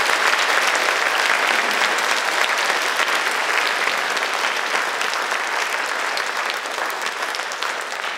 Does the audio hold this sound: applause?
yes